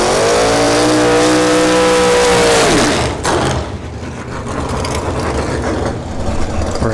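A drag racing car launches down the strip at a Summit Racing NHRA bracket series event at Bradenton Motorsports Park, a loud roaring engine rising in pitch before fading away into a distant rumble and crowd noise.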